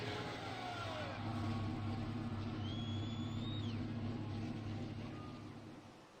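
Race car engines at a Lucas Oil 225 event rumble together in a loud, steady drone with some rising revs, crowd noise beneath, fading slightly at the end.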